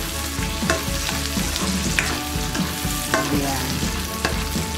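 Onions frying and browning in a pan for chop suey, a steady close sizzle with occasional stirring scrapes and clinks, and a voice speaking briefly.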